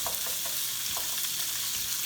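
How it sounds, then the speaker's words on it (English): Steak for a Philly cheesesteak sandwich fries in oil in a pan, giving a steady close crackling sizzle with a few soft stirring scrapes, no talk. "You'll see it start sizzling up"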